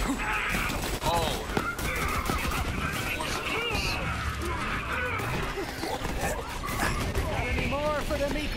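Gunfire rattles through a Borderlands 3 firefight, dense rapid shots and crashes overlapping continuously, with voices shouting over the din.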